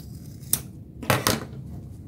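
Scissors snip thread after sewing a denim bag made from thrifted jeans, giving about three short, crisp cuts close by in a quiet room.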